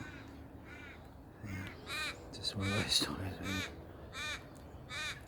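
Several crows caw repeatedly at a creek gorge near Adelaide, harsh calls at moderate distance over outdoor ambience, with someone talking between and over them.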